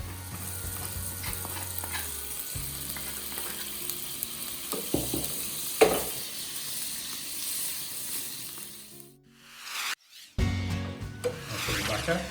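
Prawns pan frying until golden give off a steady, close sizzle with scattered crackles over faint tonal background sound, briefly dipping near the end before returning.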